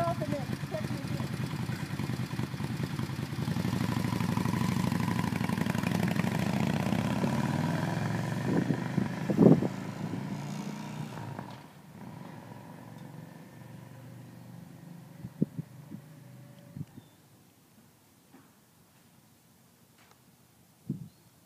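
A motorcycle engine running close by, then revving and fading away as the rider heads off down the block, leaving quieter street background with a few thumps and people talking.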